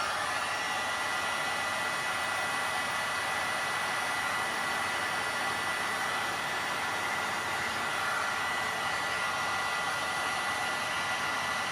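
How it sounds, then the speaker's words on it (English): A heat gun blows hot air in a steady, loud broadband whoosh that runs unbroken from start to finish, with no talking over it. "I might just get the heat gun, just hit it a bit"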